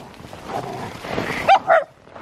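Two short yips from a dog come at the end, following some low rustling and muffled background noise.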